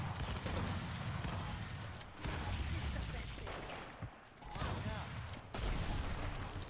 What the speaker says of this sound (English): Dude, he's just sniping the entire time.